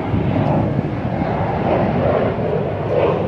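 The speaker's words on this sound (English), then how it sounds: "another airplane real quick" An airplane passes overhead outdoors, a steady broad engine rumble that holds loud and even throughout, with no talking over it.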